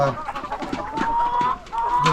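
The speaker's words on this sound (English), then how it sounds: "You can hear some roosters," Roosters at a poultry farm during a morning inspection, with a drawn-out crow rising over scattered clucking and flock noise, close and moderately loud.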